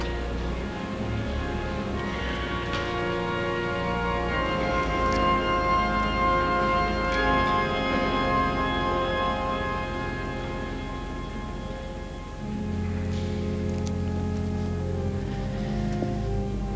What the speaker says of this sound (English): And now the anthem, The Spirit of the Lord, by Elgar.